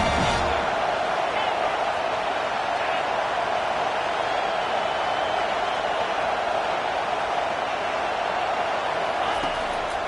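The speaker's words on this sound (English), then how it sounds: "this big crowd doing everything possible to inspire this defense down here near the goal line" A big stadium crowd at an American football game roars steadily for its defense near the goal line, a dense continuous wash of cheering that never lets up.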